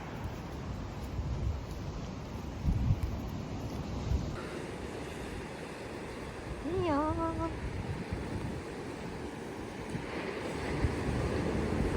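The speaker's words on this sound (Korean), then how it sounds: "파도 소리가" Ocean waves washing onto a shore on New Zealand's South Island, a steady broadband surge with wind rumble on the microphone, and a brief whistle-like tone partway through.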